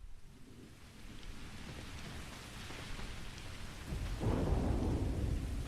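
Thunderstorm in the video game Starfield: steady rain hiss throughout with low rumbling thunder, swelling into a louder, closer roll near the end, with no talk.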